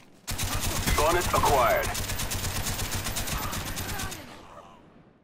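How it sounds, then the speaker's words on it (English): Sustained M60 light machine gun fire in Black Ops, a loud continuous burst of rapid shots lasting several seconds before tapering off, with a brief game announcer voice over it. "M60, that LMG"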